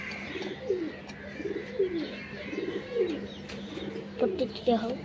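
A pigeon coos nearby in a series of soft, throaty calls, repeating several times at an uneven pace against low background noise.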